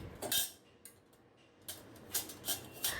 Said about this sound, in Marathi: आता आपण पुरण यंत्रातनं पुरण वाटून घेऊया